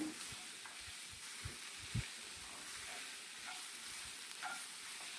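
Freshly grated coconut from half a large coconut is stirred and sautéed in a pan for thuvaiyal, giving a faint, steady sizzle with soft scraping strokes and an occasional louder knock of the spatula.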